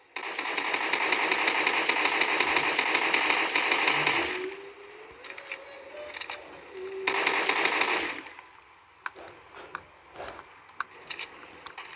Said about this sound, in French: Je tire un peu parce que moi j'ai envie de faire des kills.